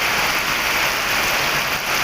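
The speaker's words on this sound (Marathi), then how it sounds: "किती मोठं मोठं मोठा मोठा पाऊस आहे" A thick, unbroken hiss of heavy monsoon rain falling nearby in Kerala, loud and steady throughout.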